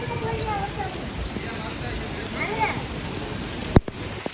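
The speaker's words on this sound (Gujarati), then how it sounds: "કેવો વરસાદ પડે છે." Heavy rain pours steadily in a broad, constant wash, with faint tones drifting in the background and a sharp knock near the end; no one speaks.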